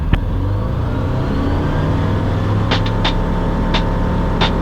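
Sling 2 light sport aircraft engine on its takeoff roll down runway 04 at Longreach, a steady loud droning rumble throughout with a few brief higher clicks near the end.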